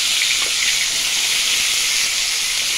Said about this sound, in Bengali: প্রথমে আমি আলুগুলো ভেজে নেব আর ক্যাপসিকাম